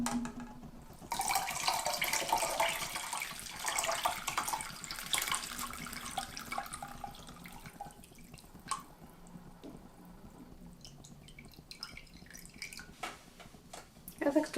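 Lemonade mixture of lemon juice and sugar dissolved in water is strained, giving a running, splashing trickle of liquid through a strainer that gradually thins into scattered drips, with faint kitchen noise.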